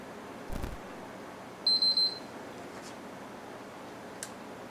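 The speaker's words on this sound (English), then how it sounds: "Your console will shut off and beep 3 times." A PS3 console shutting off gives a quick run of three short high electronic beeps close by in a quiet room, with a faint thump just before and a soft click afterward.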